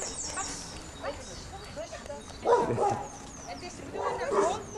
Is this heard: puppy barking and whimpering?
yes